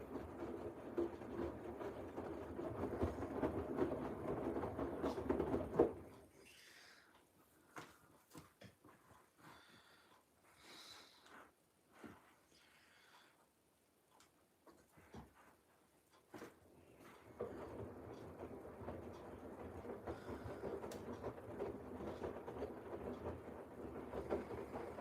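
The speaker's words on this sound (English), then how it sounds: "At the moment it's doing 50 RPM tumbles." A washing machine drum turns slowly at 50 RPM, giving a steady rumbling churn with swishing laundry. The tumbling is loud at the start, drops to a quieter stretch with scattered clicks and knocks in the middle, then returns to a continuous rolling wash.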